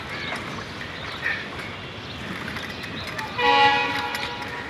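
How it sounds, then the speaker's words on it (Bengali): A train rolls past with a steady rumble. Its horn sounds briefly near the start and again more strongly toward the end, heard from a moderate distance with no one talking. "ট্রেনের হর্ন শোনা যাচ্ছে"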